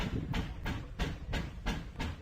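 A steam locomotive, a Southern 4501 pulling red rail coaches in the Roblox game Ro-Scale Sandbox, chuffs in a steady rhythm of about five evenly spaced bursts over a continuous rumbling hiss, with no talk.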